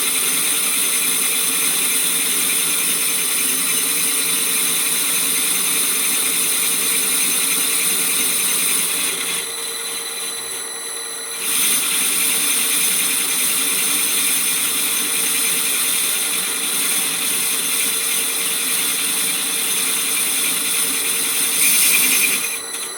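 A metal lathe turns a 5-inch gauge steam locomotive tender wheel, a steady dense grinding whine with a high cutting hiss, continuous and close, briefly easing midway.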